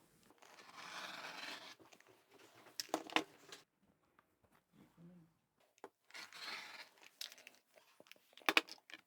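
Scissors cut fabric for a zippered pouch in soft, close snips and rustles, quiet and intermittent, with sharper clicks of the blades.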